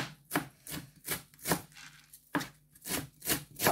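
Knife chopping fresh coriander on a board, a quick run of crisp, evenly spaced taps with a short pause midway, close and fairly quiet.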